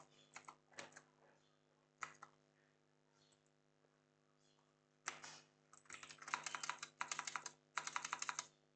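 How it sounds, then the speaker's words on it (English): Keystrokes on a computer keyboard entering a root password during a PNET Lab setup, sparse taps at first then a denser run of typing, close and fairly quiet over a steady electrical hum. "Type root password, repeat the root password, type pnet, password do not match."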